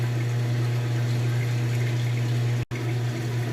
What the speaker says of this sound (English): Alright, once again draining the water out,